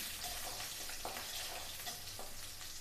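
Onions and curry leaves fry in a pan for a vegetarian curry, making a quiet, continuous crackling sizzle. A few faint stirring strokes come through it, and no voice is heard.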